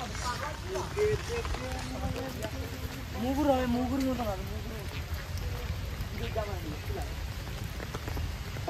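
Steady rain falls at Rabindra Sarobar, a constant soft hiss beneath people talking and a passing melodic voice.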